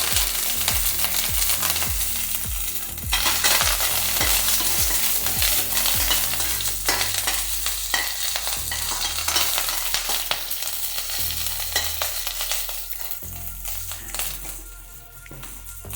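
Dried red chilli, green chilli and curry leaves tempered in hot oil for mango pachadi: a busy, bright crackling sizzle with rapid spattering pops and stirring clatter, steady and close, no voices.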